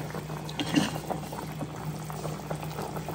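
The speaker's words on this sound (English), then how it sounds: "So I'll have to let it boil because I put it in the freezer" A frozen Thai pork joint boils in a pot of water, giving a steady, close bubbling and simmering that runs throughout with small splashes and no talking.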